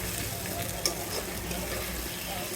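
Loitta fish frying in plenty of oil in a pan, a steady close sizzle with faint stirring and no talk over it.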